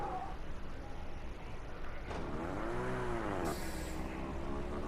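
A race car engine in a video game drones at low revs, a steady moderate hum whose pitch dips and rises once in a slow sweep as the car labors to pick up speed.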